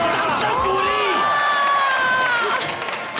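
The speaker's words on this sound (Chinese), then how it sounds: "我掌声鼓励" A studio audience at a Taiwanese variety show cheers and whoops loudly and steadily, with shouted voices rising over the crowd noise; clapping is hard to pick out.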